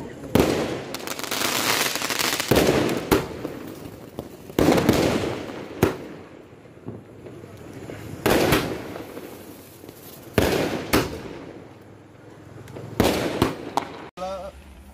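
Eagle Royal 60-shot sky shot fireworks going off during Diwali, with loud, sharp bursts at irregular intervals, each followed by a crackling tail and brief quieter gaps.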